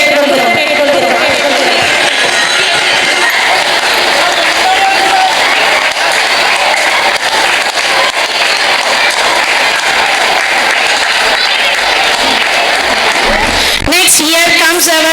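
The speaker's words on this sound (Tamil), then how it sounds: "பெற்றோர்கள் தங்கள் கரகோஷங்களை எழுப்பி எங்கள் வித்யாலயா மாணவர்களை வாழ்த்து அன்புடன் கேட்டுக்கொள்கிறோம்." Parents applaud at a school event, loud sustained clapping from a big crowd filling the whole stretch with steady intensity, broken by a brief sharp shift near the end.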